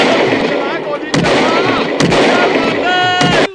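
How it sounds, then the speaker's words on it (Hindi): Gunfire sound effect played during a radio prank call: three or four sharp, loud bangs ring out a second or so apart over a busy, noisy background, with a faint high tone near the end. "चला गोली चला।"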